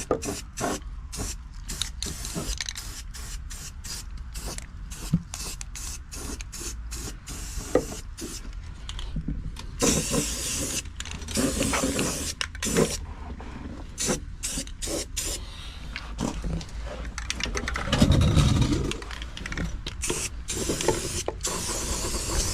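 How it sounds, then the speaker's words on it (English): An aerosol spray can hisses in repeated bursts of varying length while installing a running board on a 2014 Promaster van, with brief gaps between sprays and a short rattly stretch near the end. "No harm in spraying a little extra."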